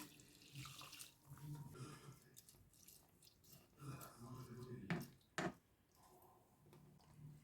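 Water pours and splashes into a multicooker-pressure cooker pot over rinsed rice for plov, a steady stream with a few sharper clinks, fairly quiet and close.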